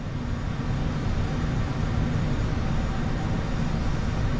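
A LeerJet in Flight Simulator X flies with a steady, even engine roar and wind rush that holds unchanged throughout, with no one speaking.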